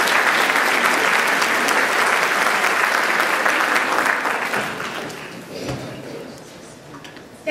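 An audience applauds to welcome a speaker at a talk on Middle East photography, with loud, dense, sustained clapping that tapers off after about four seconds and then fades out.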